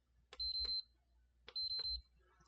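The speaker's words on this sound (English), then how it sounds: "so it's doing the beep" A PS5 console with a faulty Blu-ray disc drive gives two short double beeps about a second apart, close and clear over faint room noise.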